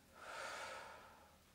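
A long, soft exhale during a breathing exercise, a single breathy rush that swells and then slowly tapers off, close and quiet with no talking.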